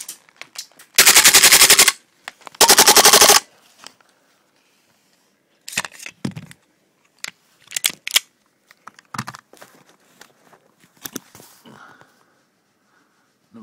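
Automatic Glock pistol firing outdoors in two loud full-auto bursts of about a second each, followed by scattered single shots and clicks at irregular intervals with quiet gaps between.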